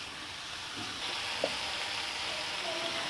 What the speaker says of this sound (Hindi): 1 छोटी प्याज कट करके ये इसमें डाल दी है। अब इसको भी हमने सौते करना है